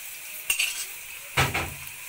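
Potatoes and eggs fry in a pan with ginger and garlic, giving a soft sizzle with two brief scraping stirs of a utensil against the pan, close up and without speech.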